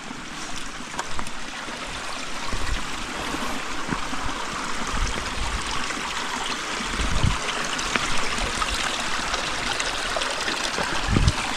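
A substantial stream of water beside a hiking trail on the Art Loeb Trail rushes and gurgles steadily and fairly close, a continuous broadband wash with no talking.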